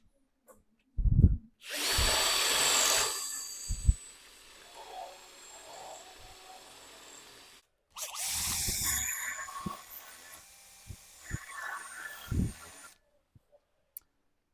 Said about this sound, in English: So I've drilled around the rubber part of the bush.